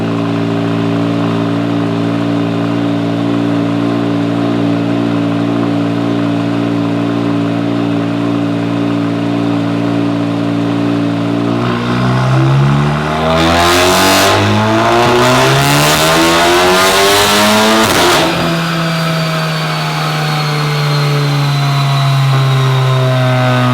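A tuned Audi S3 with full bolt-ons roars through a full-throttle dyno pull, the engine note rising steadily for several seconds to a howling peak before dropping back, loud and close with no talk.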